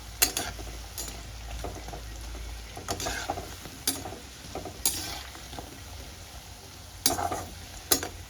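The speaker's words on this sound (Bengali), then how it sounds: "পকোড়াগুলো আমি এরকম লাল লাল করে ভেজে নেব।" Besan pakoras deep-frying in oil: a continuous fizzing bubble broken by crisp scraping and clattering strokes of a slotted spoon at uneven intervals, close and alone without speech.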